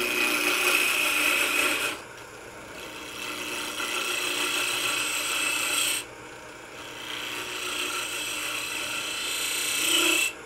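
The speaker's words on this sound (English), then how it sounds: "So I'm going to take my 1/2 inch skew and I'm just going to do some peeling cuts here." A half-inch skew chisel makes peeling cuts on a wooden box spinning on a lathe, giving close, rasping scrapes in bursts of a few seconds with short pauses between them.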